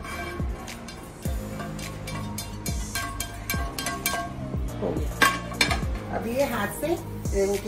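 Dry-roasted whole spices being crushed and stirred in a hot pan on a gas stove while making butter chicken, with repeated metallic scrapes and clinks of utensil on pan over background music.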